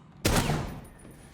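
A single sharp gunshot burst from a firefight in Rainbow Six Siege, loud and close, with its echo fading over about a second.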